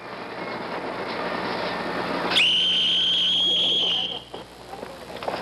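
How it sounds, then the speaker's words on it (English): A prison lockup whistle sounds partway through, one long, loud, steady blast lasting a couple of seconds over a busy background of ambient noise, then cutting off abruptly. "When the lockup whistle blows,"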